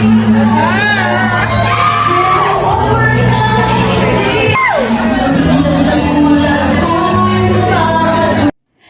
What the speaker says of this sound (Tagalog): Lalong hiyawan ng nilapitan ni Julina si Marvin.